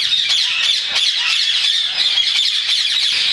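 Shrill, harsh squawks from a yellow breeding pair of parrots at a bird farm in Multan, Pakistan, repeating in quick overlapping bursts, loud and close with no talk.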